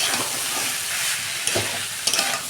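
Banana flower (mocha) sautéing in a pan with a little sugar, giving a steady close sizzle and frying hiss with a few sharp scrapes of a spatula, no talking.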